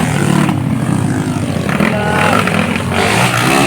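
A racing motorcycle engine at a local race revs loud and near, its buzzing tone rising and falling continuously while a commentator is faintly audible.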